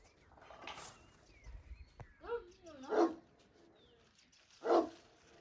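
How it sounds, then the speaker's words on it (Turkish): A dog gives a few separate barks spaced out over several seconds, mid-distance, with a faint whine and quiet background between them. "Sebepsiz bir havlaması var ya"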